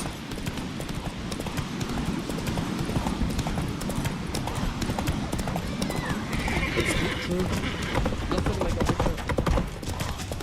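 Roach, Geralt's horse in The Witcher 3, gallops in a fast, steady stream of clip-clop hoofbeats lasting about ten seconds. A whinny breaks through partway along, and brief speech can be heard in the background.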